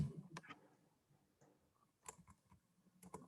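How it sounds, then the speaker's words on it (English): Sparse, faint clicks of typing on a computer keyboard during an online Python bootcamp session, a few scattered keystrokes separated by quiet gaps. "Let me start typing."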